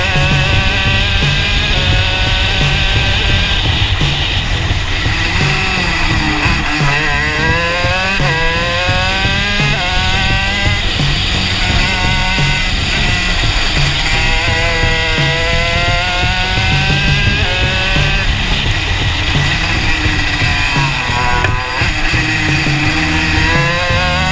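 A racing kart engine screams continuously during a track session, loud and close, its pitch rising and falling repeatedly as the driver works the throttle through corners and straights.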